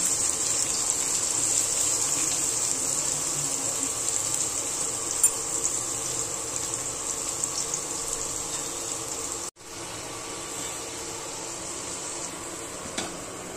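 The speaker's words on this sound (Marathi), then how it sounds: "कांदा आणि इकडे जिरे मोहरीची फोडणी दिलेली आहे" Cumin and mustard seed tempering with onion sizzles in a pan for kharvada, a steady, even hiss that runs without pause apart from one brief cut, with no talking.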